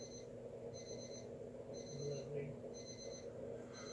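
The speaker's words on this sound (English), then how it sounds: "He's on the phone and the alarm's going off." An alarm beeps in a repeating pattern of paired high tones, rising and pausing at regular intervals in a room while someone is on the phone, with a faint murmur of voices beneath.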